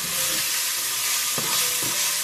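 Fresh green peas and onion sauté in a pan for a flattened-rice cutlet, giving a loud steady sizzle with a couple of brief stirring scrapes.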